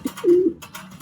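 Pigeons give a short, low, throaty coo up close, a soft rolling call lasting under a second with faint rustling around it.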